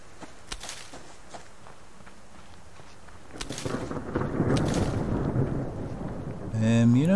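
A thunderstorm with rain in the Subsistence survival video game: a low rolling rumble swells in about halfway through and builds into a steady, heavy wash that continues to the end.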